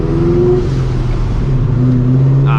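A supercharged New Edge Mustang GT fitted with long tube headers drives along with a loud, steady low engine drone and shifting rumbling tones throughout.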